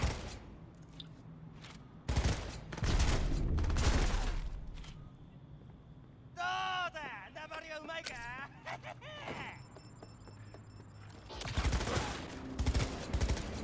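Video game gunfight with bursts of rapid gunfire in scattered volleys, loud at the start and end, with a stretch of quieter firing, pitched electronic tones and vocal gasps in between.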